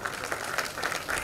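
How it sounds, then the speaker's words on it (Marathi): A gathering celebrating Veer Savarkar's centenary gives brief, lively clapping as a guest is called up to the stage. "सौरभ धडपळेजी यांच्यासाठी जोरदार टाळ्या झाल्या पाहिजे"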